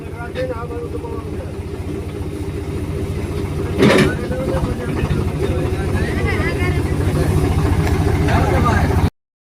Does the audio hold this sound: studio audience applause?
no